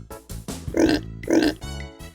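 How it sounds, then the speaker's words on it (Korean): A piglet in a Korean children's song oinks twice, each a short nasal grunt, close and clear between sung phrases. "토실토실 아기 돼지가 꿀꿀 엄마를 불러요."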